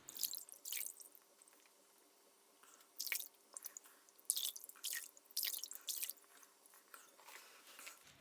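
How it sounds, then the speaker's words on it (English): Water from a bowl being splashed onto a face in several short wet bursts with quiet dripping pauses between them, close and fairly soft, with no talking. "I'm going to splash my face and remove the whole thing with water"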